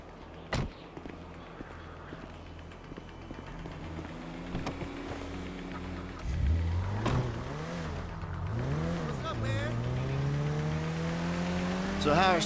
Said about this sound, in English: Mr. Phillips, You're driving.